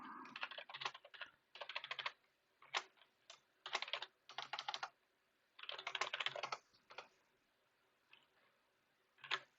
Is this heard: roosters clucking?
no